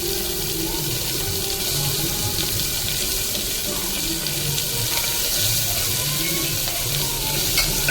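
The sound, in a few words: small onions being stirred and fried in a pan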